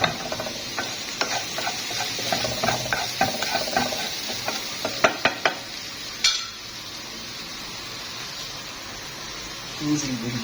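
Garlic is stir-fried in a pan while rice with vegetables and shrimp cooks: repeated scraping and clicking of stirring over a low sizzle, easing into a steadier, quieter frying hiss partway through.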